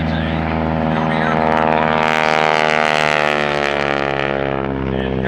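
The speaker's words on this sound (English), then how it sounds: "We have the SNJ, we have the Harvard. They're all three the same actual airplane." An SNJ Harvard propeller airplane at an air show passes with a loud, steady droning engine roar that swells and shifts in pitch as it goes by, while an announcer talks over it.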